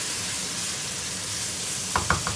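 Zucchini masala with garlic, ginger and spices stirred in a pan after a splash of water, a steady soft sizzle throughout with a few sharper spoon scrapes near the end.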